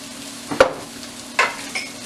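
Celery frying in a pan for coconut shrimp, a faint steady sizzle broken by a few brief stirring scrapes close by.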